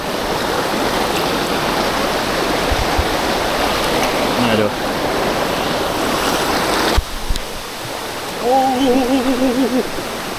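Strong rushing water at Than Thip waterfall in Prachinburi, a loud continuous roar of falling water close by, with people talking over it and a brief tonal voice sound near the end.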